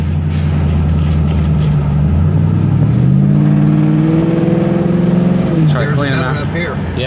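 A car engine revs up and down, its pitch climbing in steps and then dropping, with a voice talking briefly near the end.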